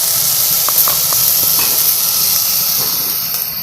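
Onion and potato curry cooking in hot oil with a mustard seed tempering, a loud steady hiss with faint sputtering crackles throughout, no talking.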